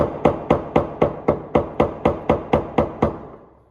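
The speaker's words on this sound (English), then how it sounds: "I'm going to use a hammer and a screwdriver on some of these fins to try to break it free." Hammer blows on a screwdriver driven against a stuck plastic collar on the fuel sending unit of a 1999-2007 Ford Super Duty truck: about thirteen sharp, evenly spaced metallic taps, close and loud, fading at the end.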